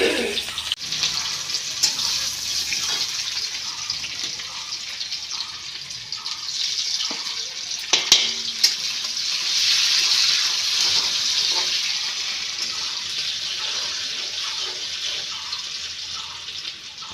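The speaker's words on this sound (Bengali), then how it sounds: "এখন পেঁয়াজ ভাজা হবে।" Onions sizzle steadily in hot oil with a sprinkle of cumin in a wok, a continuous bright hissing fry close by that swells slightly midway, with a few soft clinks and no talking.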